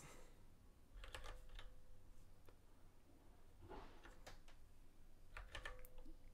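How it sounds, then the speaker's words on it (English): Faint keystrokes on a computer keyboard come in a few scattered clusters of clicks, quiet against a low background hiss. "Usually typing."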